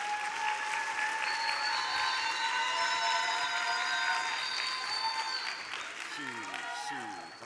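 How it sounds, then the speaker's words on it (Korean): A church congregation at a Wednesday worship service applauds to encourage a student about to recite Isaiah 53, a dense, steady wave of clapping filling the room that thins slightly toward the end. "격려의 박수 한번 주십시오"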